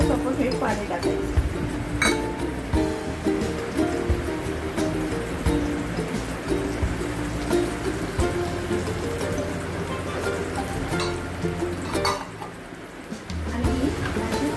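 A spoon stirs cashew paste and water in a pan for a methi matar paneer gravy, giving scattered metallic clinks and scraping. A voice talks over it throughout.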